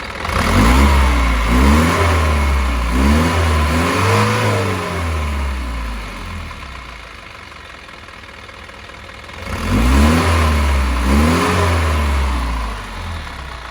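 A car engine revs up hard, eases back toward idle, then revs again strongly near the end, loud and close with no talking.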